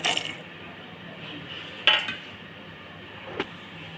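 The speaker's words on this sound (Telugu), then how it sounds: "ఒక స్పూన్ జీలకర్ర వేస్తున్నా మొత్తం వేస్తున్నా" A spoon tips cumin seeds into a cooking pan while making a tomato chutney, giving three short metallic clinks and taps at the start, middle and end over a quiet background.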